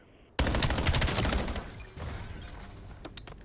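A rapid string of loud gunshots erupts abruptly in a competitive 4v4 Call of Duty match, dense and close for about a second before thinning into a few sharper, fainter shots at the end.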